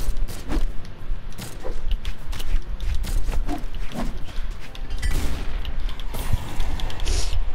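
Thatch firing his pistols in the platform fighter Brawlhalla: a steady stream of sharp, punchy shots and impacts in quick succession, loud and close, with game effects throughout.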